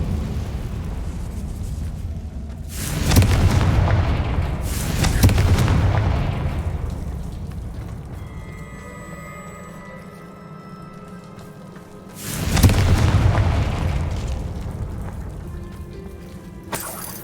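Confringo blasting spell explosions in the Hogwarts Legacy video game, three loud booming blasts with rumbling tails spaced several seconds apart, between them a quiet ringing game ambience.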